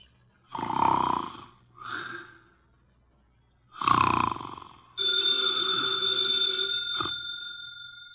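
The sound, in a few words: man snoring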